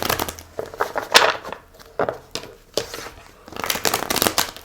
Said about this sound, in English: I feel like it needs a really good shuffle.